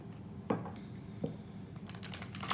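Tarot cards being shuffled by hand in a quiet room, soft riffling taps and a few sharper card snaps at intervals, close and fairly faint with no talking.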